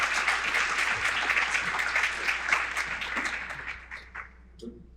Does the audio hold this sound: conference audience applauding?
yes